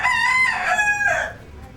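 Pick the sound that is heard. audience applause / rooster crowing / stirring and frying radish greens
rooster crowing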